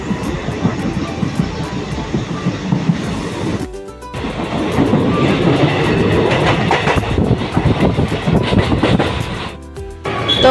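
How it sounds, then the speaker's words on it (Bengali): A moving train rumbles steadily, heard from inside a passenger carriage, with rhythmic clacking of wheels over rail joints. The noise rises and falls and drops out briefly twice. "তো আমরা ট্রেনে এখন বসে পড়েছি, চলে যাচ্ছি বাড়ি।"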